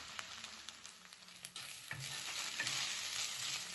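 Ginger garlic paste sizzles and fries in a pan while being stirred for chicken thokku, a soft, steady crackle with scraping that grows a little louder, close and quiet, with no talk.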